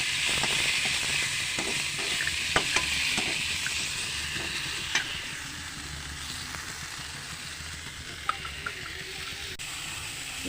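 Onion, tomato, red chilli and chana dal sauté in a pan for mint chutney, a steady low sizzle and hiss with occasional light stirring clicks, moderately close and without speech.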